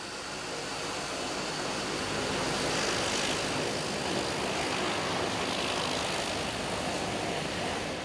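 A propeller airplane's engine drones loud and continuous from inside the aircraft, a dense, even roar with no voices.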